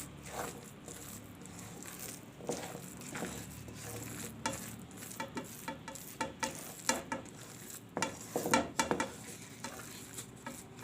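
Coconut laddu mixture being stirred in a hot kadai, a spoon scraping and clinking against the pan in irregular bursts over a faint sizzle, close and fairly quiet.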